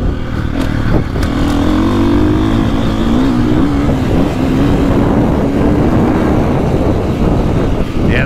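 A 450cc motocross dirt bike engine, a Honda CRF450R or KTM 450SXF, drones loud and close while being ridden, with a sustained buzzing roar and a pitch that slowly rises and dips throughout, with no talking.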